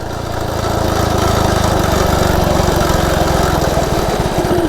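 A Coleman CT100U minibike with its governor removed screams at full throttle, a loud steady high-revving small engine droning close by throughout, with no talking.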